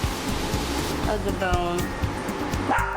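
Dogs bark indoors in a home during a makeup session, a few short barks partly buried under a person talking close to the mic.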